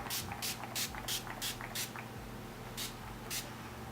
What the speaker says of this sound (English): I'm going to use my Urban Decay De-Slick Makeup Setting Spray